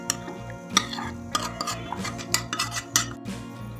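Spoon scraping and clinking against a pan as fried spices for stuffed bhindi are stirred and shifted into a bowl, a series of irregular metallic taps and scrapes over a faint kitchen hum.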